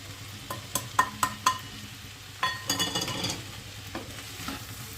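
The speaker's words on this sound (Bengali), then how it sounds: "দিয়ে ভালোভাবে সব মশলা সবজির সাথে মিশিয়ে দিচ্ছি।" Spoon stirring chili, turmeric, cumin powder and salt into fried cauliflower and spring onion vegetables in a pan, with several sharp scraping clinks over a soft sizzle, louder strokes early and a busier scrape midway.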